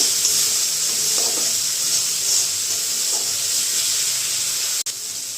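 A salted spice masala for milk paneer sizzles in a pan, a loud continuous close hiss with faint stirring scrapes and one sharp click near the end.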